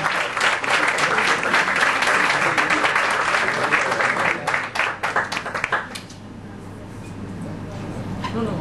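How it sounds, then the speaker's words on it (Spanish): Loud audience applause fills a hall at a musical association event, dense and sustained, then breaks off suddenly near the end, leaving quieter room noise with voices murmuring underneath. "Un aplauso, por favor."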